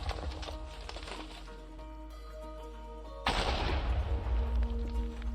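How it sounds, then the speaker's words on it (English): Copper blocks blown up by an explosion in Minecraft, a sudden loud burst that breaks into a broad rumbling roar over a quieter background of game tones. "Copper blocks got blown up."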